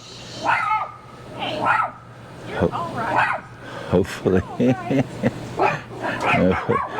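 Dogs bark and yip in short bursts at new neighbours at an RV site, mixed with whimpers, while a person talks over and between the barks.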